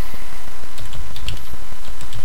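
Close, quick keystrokes on a computer keyboard come in an irregular run of clicks over a steady background hiss.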